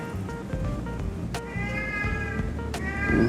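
A cat meows repeatedly in drawn-out, tonal cries, fairly close, over a low background hum with a couple of sharp clicks.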